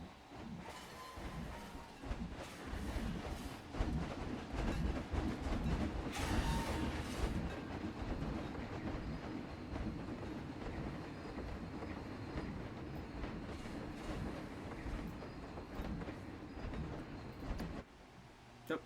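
In Planet Coaster, the Iron Horse coaster train pulls out of the station with a steady rumbling clatter of wheels on track, which continues for most of the stretch at moderate volume and ends with a brief fade.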